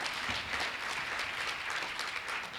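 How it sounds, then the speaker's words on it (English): Audience applause at a 2025 awards ceremony, a steady wash of many hands clapping at moderate loudness throughout, with no talk over it. "Give a nice round of applause"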